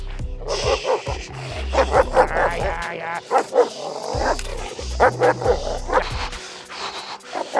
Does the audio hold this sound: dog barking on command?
yes